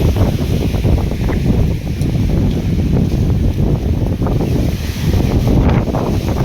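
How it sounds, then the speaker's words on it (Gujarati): Strong wind buffets the microphone in loud, continuous rumbling gusts that never let up. "હમણાં કંઈ નહોતું ને એટલી વારમાં જોરદાર ઉપડી ગયો પવન"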